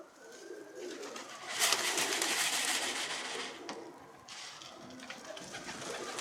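A skittish runaway pigeon near a coop coos outdoors amid soft rustling and fluttering, with a louder burst of noise in the middle; a voice speaks briefly in the background.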